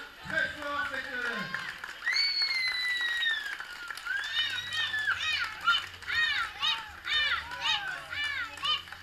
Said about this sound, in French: je vous invite à l'applaudir aussi très fort